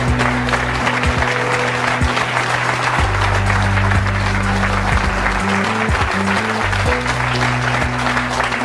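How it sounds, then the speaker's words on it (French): A television studio audience applauds warmly and continuously, a dense steady clapping with music playing underneath. "Je vous demande d'accueillir et d'applaudir chaleureusement nos deux prochaines invitées"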